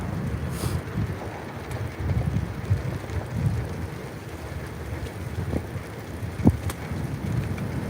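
Steady outdoor wind buffets the microphone during a bike ride on a cold morning, a continuous low rumble with small gusts and a faint tap near the end, no talk.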